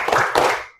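A class of students claps a short rhythmic cheer led by a teacher, a quick burst of loud, close hand claps in a brief pattern that fades out within a second.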